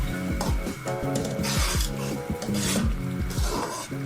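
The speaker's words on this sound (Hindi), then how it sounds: "अब हम इसमें ऐड करेंगे ये जो चिकन हमने फ्राई किए थे।" Fried chicken pieces are tipped into a hot pan and stirred with a utensil for restaurant-style chicken shashlik with fried rice, giving repeated rhythmic scraping and rasping strokes against the metal. It sounds close and busy, with no talking.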